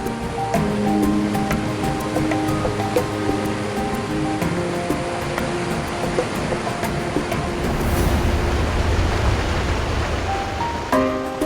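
Rushing water where nearly a hundred streams converge in a canyon in Guizhou, China, a dense, continuous roar with melodic music playing over it.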